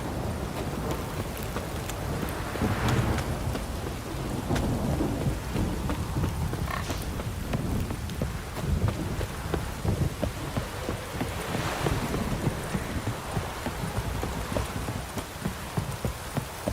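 Steady heavy rain pours down with low rumbles of thunder rolling underneath, continuous and enveloping, with no voices, in the video game The Witcher 3 next-gen edition.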